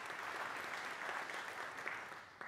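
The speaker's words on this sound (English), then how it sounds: "let's give Jess a round of applause." Guests at a church charitable foundation's scholarship award event clap for a high school graduate, a faint, even roll of applause that thins slightly toward the end.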